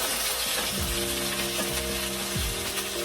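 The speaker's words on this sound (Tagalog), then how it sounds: "fry the garlic, the pepper corn, the whole pepper corn, and the butter" Garlic, whole peppercorns and butter fry in a pan for chicken adobo, making a loud, continuous close-up sizzle with occasional light stirring.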